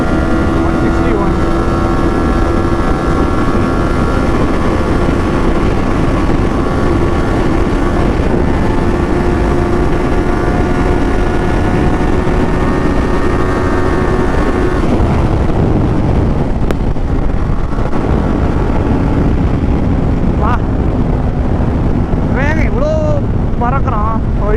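Kawasaki Ninja 500 motorcycle ridden at speed: loud steady engine drone with rising harmonics, heavy wind rush on the microphone, a gear change partway through, and the rider's voice briefly over it.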